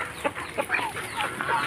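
Chickens cluck softly in short, scattered calls, a few birds close by, with no talking.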